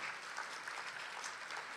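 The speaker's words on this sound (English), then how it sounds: "Please give them a huge round of applause." Audience applause for Bharatanatyam dancers at a community cultural stage event. A steady wash of clapping from a crowd fills the whole stretch, fairly quiet and distant, with no voices over it.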